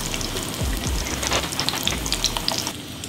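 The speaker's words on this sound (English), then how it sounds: "we're gonna lay our tortilla down in this ripping hot oil and let it fry" Corn tortilla frying in ripping hot chili oil in a pan, a continuous loud close sizzle and crackle with scattered pops and a few low knocks of the pan, no talking.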